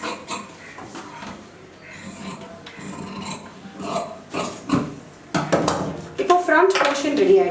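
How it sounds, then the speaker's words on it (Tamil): Scissors cut through two layers of cloth for the front panel of a garment, with soft scraping at first, then a run of crisp, louder snips close by toward the end. "ஸோ 2 லேயர்ஸ் வச்சு இப்போ நான் ஃப்ரண்ட் கட் பண்ணிட்டு இருக்கேன்."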